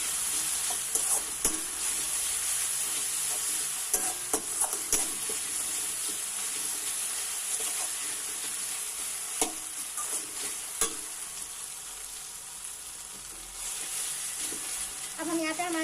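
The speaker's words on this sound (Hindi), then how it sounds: "चलिए इन सारी चीज़ों को अच्छे से मिक्स कर लेते हैं।" Street-style Chinese noodle ingredients with black pepper stirred in a hot pan, a continuous bright sizzle with scattered scraping and tapping of the spatula against the metal, close and steady.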